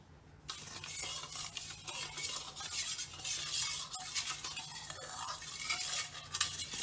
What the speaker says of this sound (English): I'm gonna just do a whisking like little bit so that it gets dissolved.